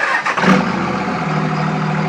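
A 2001 Dodge Ram 3500 24V Cummins diesel truck engine rumbles at idle through exhaust stacks, with a brief rev at the start, then settles into a steady, deep exhaust drone up close.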